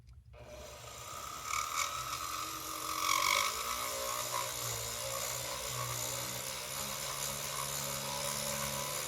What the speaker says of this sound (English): These are very thin drill bits, and they can definitely break.